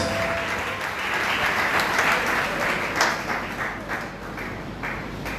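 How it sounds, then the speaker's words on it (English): A church congregation applauds in praise during a service, a dense, steady wash of many hands clapping that fills the room and tapers slightly toward the end. "Are we clapping for Jesus?"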